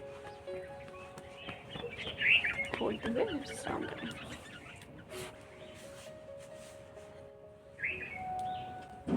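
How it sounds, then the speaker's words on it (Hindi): Small birds chirp in scattered bursts outdoors in the morning, light and fairly close, while a voice gives calm instructions for a yoga relaxation session. "चिड़िया आई हुई है तो काफ़ी अच्छा लगता है।"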